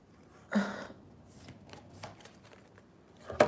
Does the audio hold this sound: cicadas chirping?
no